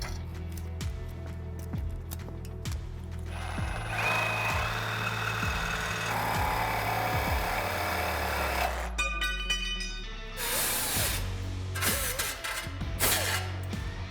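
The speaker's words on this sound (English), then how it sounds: "we can cut off the rear of the frame" A power tool cuts off the rear of a 1967-1972 Ford F100/F250 truck frame during a longbed to shortbed conversion. Rhythmic clanks come first, then a sustained harsh grinding cut, followed by louder metallic impacts and rattling.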